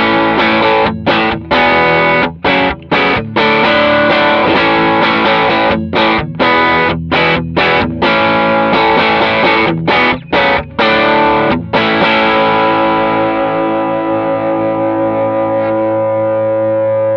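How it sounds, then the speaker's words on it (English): Electric guitar through a Foxpedal Vixen drive pedal in 4148 diode mode, playing thick distorted chords with rhythmic stops for about twelve seconds before a final chord rings out and slowly fades, loud and up close. "Here goes a little bit more with the Vixen in the 4148 diode mode."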